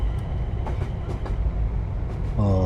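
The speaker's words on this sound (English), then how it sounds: "Oh, you can't beat the sound of those rails." Steady rail clatter from a class 380 train in Train Sim World 4 on the Cathcart Circle, rumbling and rhythmic throughout, with a rising tonal whine near the end.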